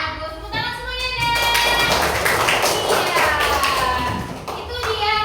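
Children in a classroom clap their hands together in a loud, sustained burst of applause lasting several seconds, with young voices and chatter mixed in throughout.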